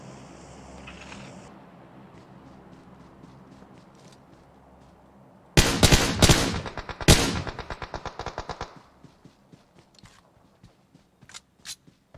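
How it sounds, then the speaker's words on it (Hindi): Sniper and machine-gun fire in the PUBG Mobile battle royale: a loud cluster of rapid automatic bursts mid-clip, then scattered single sharp shots fading out over quieter background ambience. "sniper shot"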